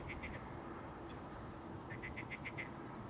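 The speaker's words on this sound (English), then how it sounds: "You hear the frog?" Frog croaking outdoors beside an airport, a short run of regular pulsing calls, fairly faint over a broad steady rumble of background noise.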